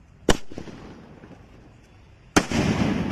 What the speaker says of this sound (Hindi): हमारा स्काई शॉट जल गया है।